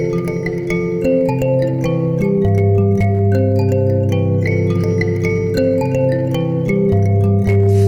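A mbira dzavadzimu plays a continuous interlocking pattern of plucked metallic notes with buzzy resonance, steady and close, with no voices.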